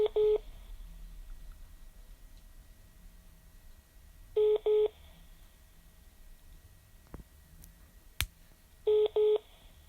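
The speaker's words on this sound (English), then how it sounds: "Tommy Robinson fan on the phone" Touch-tone phone keys are pressed in three quick clusters of paired beeps spaced several seconds apart, loud and close against a faint background hum, with a couple of sharp clicks between them.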